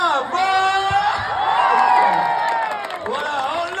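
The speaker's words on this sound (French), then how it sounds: "Allez, on applaudit bien fort" A crowd at a French bull ring pool game (taureau piscine) cheers, whoops and shouts loudly throughout, with a few claps mixed in and voices rising and falling over several seconds.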